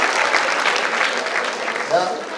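Audience applause for a student's answer at a school event, a brief burst of dense, even clapping from a room of listeners.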